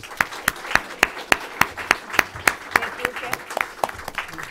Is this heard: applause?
yes